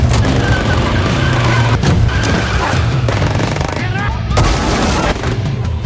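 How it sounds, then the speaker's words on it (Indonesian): Heavy automatic gunfire from Yakuza gangsters rakes a car, a dense continuous barrage of loud overlapping shots with booms throughout, alone without talk. "Mereka memberondong dengan tembakan."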